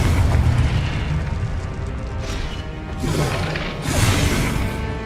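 A Confringo explosive spell in Hogwarts Legacy goes off as a loud, sustained roaring boom with crackling bursts, swelling again near the middle and end, with no talk over it.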